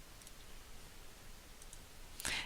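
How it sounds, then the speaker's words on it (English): Faint computer mouse clicks come in a few short taps, ending with one sharper click, against a quiet room background. "So you'll click on this."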